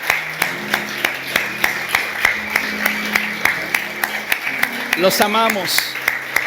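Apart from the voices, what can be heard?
church congregation applauding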